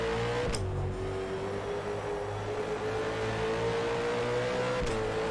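A pack of Supercars races in rFactor 2 at night on the Sydney circuit, with a steady, loud engine drone and a high whine that shifts slightly as the cars bunch together.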